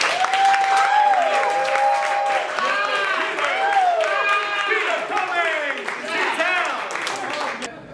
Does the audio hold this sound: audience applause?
yes